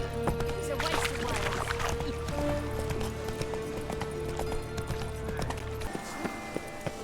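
Roach the horse gallops in The Witcher 3, a rapid rhythmic clip-clop of hooves over a steady game soundscape with tonal hums, the hoofbeats cutting out near the end.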